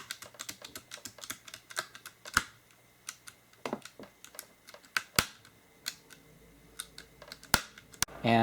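Keycaps are pried one by one off a NuPhy Air75 low-profile mechanical keyboard, giving sharp plastic clicks and snaps in an uneven rhythm, close and quiet with no talk.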